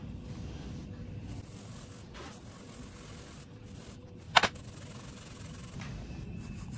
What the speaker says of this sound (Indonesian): Ini aku ayak dulu soalnya sukanya berindil tuh